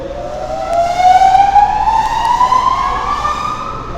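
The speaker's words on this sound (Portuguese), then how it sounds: "Nós vamos dar a partida, mesmo aqui de dentro vocês vão conseguir escutar o barulho, inclusive a mudança de estrela para delta dá para se perceber." A Ward Leonard motor-generator set's induction motor starts up with a loud, steady whine that climbs gradually in pitch as it runs up to speed.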